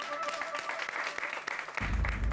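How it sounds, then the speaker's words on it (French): Brief applause rises from a group greeting a celebrity in a French drama series, soft and scattered at first, then swelling louder toward the end. "Allez, applaudissements."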